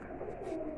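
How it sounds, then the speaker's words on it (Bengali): A pair of pigeons at a bird market give a soft, low coo that holds steadily through one short stretch, close by, with no voices over it. "এখানে এক জোড়া কবুতর আছে ভাই"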